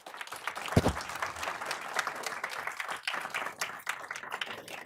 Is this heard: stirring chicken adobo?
no